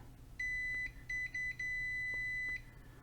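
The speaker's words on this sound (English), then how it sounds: "So when it beeps, it means it's connected." A multimeter continuity tester, used on an LED ripple flash kit circuit board, beeps several times, high and electronic, with short chirps followed by one longer sustained tone, in an otherwise quiet room.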